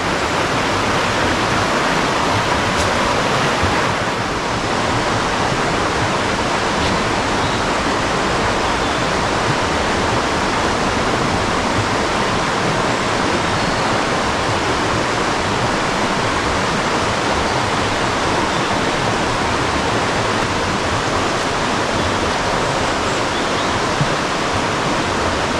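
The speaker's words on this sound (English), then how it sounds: "I'm just below the weir this time." Water rushes steadily over a weir on the Afon Lwyd river at Pontypool Park, a loud, constant broadband roar heard from just below the drop, with no voices.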